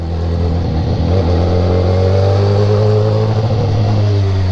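A motorcycle's exhaust revs with a steady, close, loud engine drone and harmonic bands rising and falling slightly, alone without speech.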